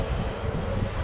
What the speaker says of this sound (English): here's a helicopter